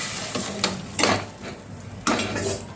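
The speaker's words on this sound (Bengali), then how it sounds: "এটা দিয়ে আমি 2 মিনিট কষিয়ে নিচ্ছি" A utensil stirs and scrapes ground spices with fried potatoes in a pan for a Bengali fish curry with eggplant, making clattering metal strokes over a faint steady background.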